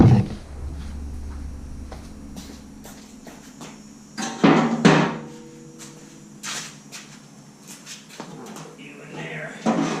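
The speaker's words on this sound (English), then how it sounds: "That sledgehammer is not the hammer to use, but that's what I'm using." A sledgehammer strikes metal parts during the teardown of a 1997 Seadoo GS jet ski, with a few sharp, loud blows spaced across the clip and a voice talking in between.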